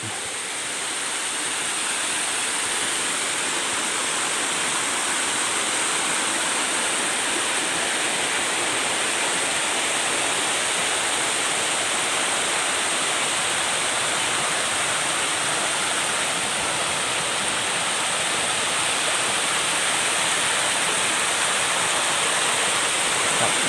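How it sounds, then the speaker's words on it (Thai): Tat Mok waterfall in Doi Saket, Chiang Mai, Thailand roars in a steady, dense rush of water that holds constant throughout, loud and close, with no voices. "ดูครับน้ำตก"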